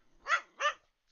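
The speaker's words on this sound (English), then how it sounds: "when you have little puppy dogs like that" A small dog gives two sharp, quick barks in close succession, nearby and fairly quiet, followed by silence.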